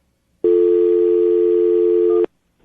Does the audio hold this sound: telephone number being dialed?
yes